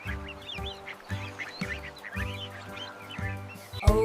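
A duck quacks repeatedly in short, regular bursts within a children's song, each quack nasal and close, set against a musical backing.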